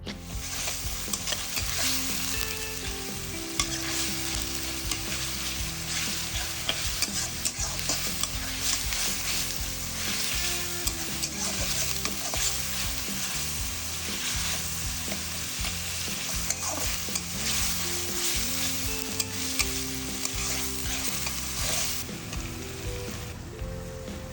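Masala paste for country chicken fries in a wok (kadai) under constant stirring, a dense, busy sizzle with steady spatula scrapes running unbroken for over twenty seconds, no talking.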